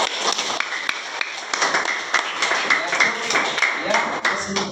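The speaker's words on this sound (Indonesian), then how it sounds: "Tepuk tangan buat Suci" A classroom of students claps for a classmate named Suci, with a continuous patter of many hands lasting several seconds and voices mixed in.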